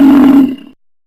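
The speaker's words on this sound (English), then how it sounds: "A buffalo grunts." A buffalo lets out one short, deep grunt-like roar, loud and close, fading quickly into silence with no one speaking.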